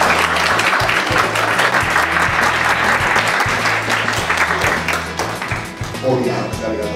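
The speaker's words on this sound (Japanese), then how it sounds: "大きな拍手ありがとうございます。" Loud, sustained applause from a crowd at a university lecture fills the room, a dense wash of clapping that tapers slightly near the end.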